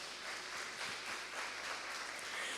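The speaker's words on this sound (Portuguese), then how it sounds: "Dá uma salva de palmas para o Senhor." A church congregation applauds in praise, a steady dense wash of many hands clapping at a moderate distance.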